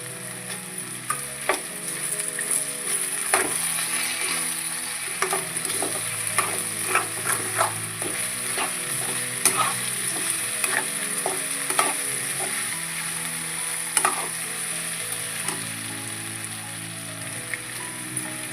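Village-style dry potato curry fries in a pan, a soft continuous sizzle with frequent scraping and tapping from stirring, fairly quiet and close, no talk.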